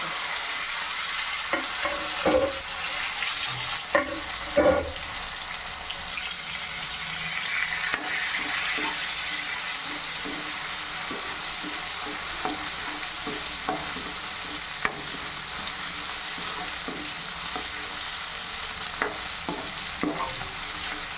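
Tomatoes frying with green chillies and curry leaves, a steady loud sizzle throughout with scattered clicks of a spoon stirring against the pan.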